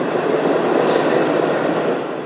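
A passenger train of stainless steel cars, many originally built in the United States, rolls steadily past at close range, giving a continuous loud rumble and rattle of wheels on rail with no voices.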